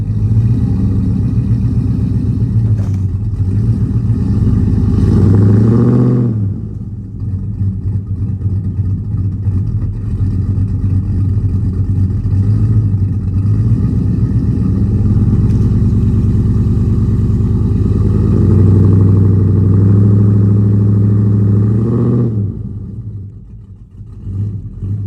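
A lifted, cammed GMC Sierra pickup in four-wheel drive pulls out a tree stump with its roots. The engine runs loud and close, revving hard in long sustained pulls, easing off briefly around the middle and again near the end.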